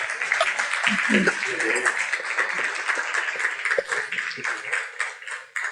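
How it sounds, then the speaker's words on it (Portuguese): A lecture audience claps for speaker Kleber at a 3DX Filamentos talk, a steady wash of applause filling the whole stretch with voices mixed in. "Vamos dar um salve de palmas aí para o Kleber?"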